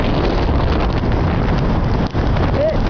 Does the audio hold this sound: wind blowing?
yes